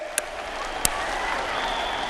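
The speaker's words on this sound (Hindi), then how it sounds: "इन चीतों के सम्मान में ताली बजाइए" Audience applause at a self-help group conference in Sheopur, Madhya Pradesh, honouring the cheetahs: a steady, dense wash of many hands clapping, with a couple of sharper claps standing out.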